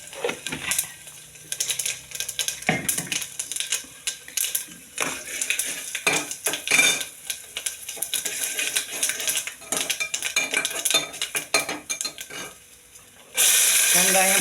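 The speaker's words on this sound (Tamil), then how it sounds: "கொஞ்சம் வடகம் போட்டு தாளிப்பு" Vadagam tempering in a hot pan, with bright sizzling and crackling mixed with repeated metal spoon scrapes and clinks as it is stirred, loud and close, ending in a sudden burst of sizzle.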